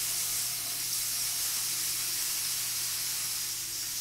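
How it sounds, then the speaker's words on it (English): Bacon cooks on high on a hot griddle, giving a loud, dense, unbroken sizzling hiss that holds steady from start to finish without pauses. "we've got this bacon cooking on high right now"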